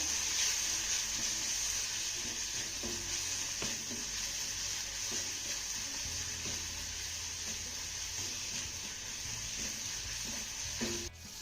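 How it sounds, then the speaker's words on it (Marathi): A roasted capsicum dish with turmeric and salt is stirred in a pan, giving a steady, close sizzle with scattered scraping and clinking of the spoon throughout, no voices. "त्यानंतर हे सर्व साहित्य आपल्याला छान असं मिक्स करून घ्यायचं आहे"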